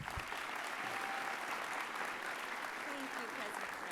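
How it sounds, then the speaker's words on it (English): Sustained applause from a large audience fills a college commencement ceremony hall, a dense, even wash of clapping that holds steady throughout. "Please join me with a round of applause for a great friend to BMCC, Lloyd Blankfein"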